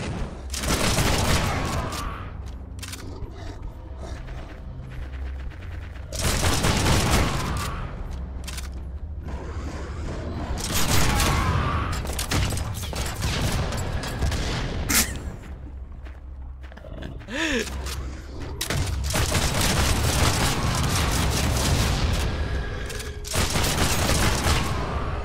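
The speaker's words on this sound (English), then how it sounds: "I guess the exploding barrels appear to be doing stuff." Exploding barrels go off in the video game Project Stray, producing several loud booming bursts with crackling, rumbling stretches between them, spread across the whole span.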